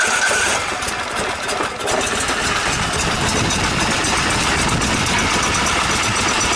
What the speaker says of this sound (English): Boy, she's a nice running engine, huh?